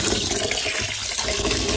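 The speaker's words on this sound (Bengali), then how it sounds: "ভুনা খিচুড়ি রান্নার জন্য পোলার চাল নিয়েছি। এখন এগুলো ধুয়ে নিব।" Polao rice being rinsed in water for bhuna khichuri, a steady splashing and running-water wash close by without pause, with no voices.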